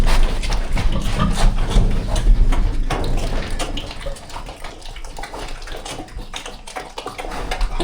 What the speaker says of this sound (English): Oh my God, they are loud eaters.